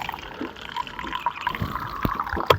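Drinking water pours and trickles steadily into a glass in hot weather, a close, continuous liquid splash with a few sharper drips near the end.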